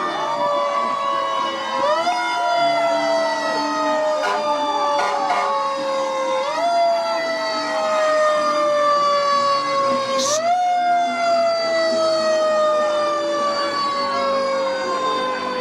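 Loud, close fire truck siren at a town parade in Cottleville, wailing in repeated rising and falling sweeps with a brief horn blast partway through, sustained throughout.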